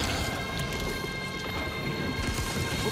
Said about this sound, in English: After the flash comes the thunder.